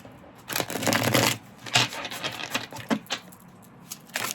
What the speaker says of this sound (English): let's give it one more shuffle.